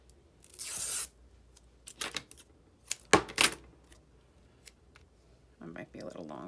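Pieces of tape are torn off a roll in several short, sharp ripping bursts, close and fairly loud, scattered among quieter handling noises.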